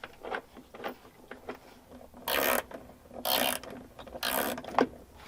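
Ratchet fastening a bolt on a 1999 Mitsubishi Montero under restoration, sounding as a few soft clicks followed by three distinct bursts of rapid ratcheting, close and moderately loud, with no speech.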